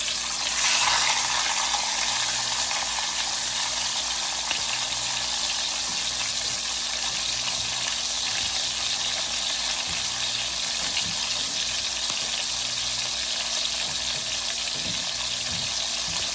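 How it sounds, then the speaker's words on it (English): Pork chops searing in rendered bacon grease give a steady, fairly loud sizzle with a constant hiss, a low hum running underneath and no voices. "You want to sear them really good on either side."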